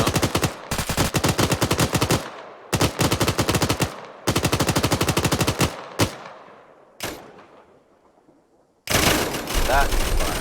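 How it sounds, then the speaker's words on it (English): An MP5 submachine gun fires in ARMA 3 in long, loud automatic bursts that ring like a belt-fed weapon, split by short gaps and echoing tails. Voices can be heard faintly between bursts. "It's Canthe's firing that MP5 and it sounds like a belt fed"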